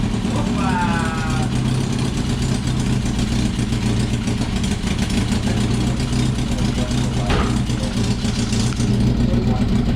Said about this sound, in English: So as you can hear, and the exhaust is blowing here